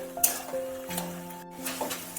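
Gati kochu (taro) frying in oil, a soft crackling sizzle with faint clinks of a utensil and a steady tonal hum beneath, fairly quiet and close.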